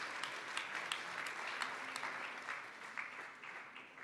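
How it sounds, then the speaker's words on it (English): A room of delegates at a senior-level meeting in the ECOSOC chamber claps for Germany's signing, giving steady, moderately distant applause that fades slightly toward the end. "Can we give them a round of applause?"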